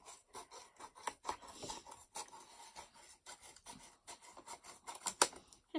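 A plastic milk bottle being trimmed with scissors, faint close-up snips and scraping crackles in an irregular rhythm.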